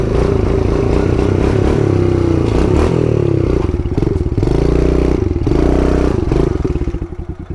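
A pit bike engine revs hard and steadily while riding uphill on a highway with a small wheelie, a loud continuous buzzing drone with rattling and clatter that eases off toward the end.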